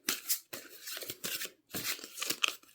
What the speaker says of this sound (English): So let me go ahead and shuffle a bit.